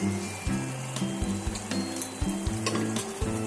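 Prawn curry sizzling in a pan as it is stirred, with masala powder and coriander added, steady frying hiss and regular scraping strokes of a spoon against the pan, close up.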